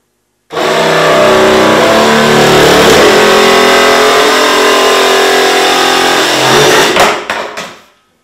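A power tool cutting a hole through a plastic rain barrel, a loud steady high-pitched whirring grind held for about six seconds before winding down, close and alone.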